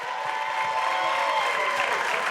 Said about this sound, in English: Can we get a round of applause for the Burbs cast?